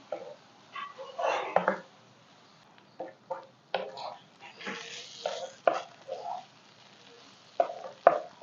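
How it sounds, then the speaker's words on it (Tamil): Spicy prawn masala is stirred in a pan with a spoon, giving intermittent scraping and soft sizzling bursts. The sounds are faint and close, with quiet gaps between strokes. "அஞ்சு நிமிஷம் நல்லா இப்படி கிண்டிகிட்டே இருங்க."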